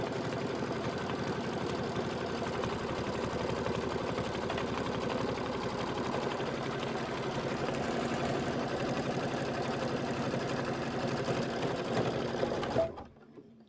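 A sewing machine runs steadily while stitching a thick crossbody bag, a continuous rapid mechanical whir that carries on for about thirteen seconds before stopping abruptly.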